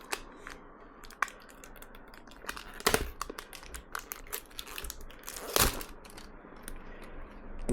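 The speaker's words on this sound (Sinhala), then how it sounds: "ඒක සීල් පැක් එකක් තියෙන්නේ. අපි අන්පැක් කරගමු." A sealed pack of beef protein powder is torn open up close, with crinkling plastic, scattered sharp crackles and a couple of louder ripping tears.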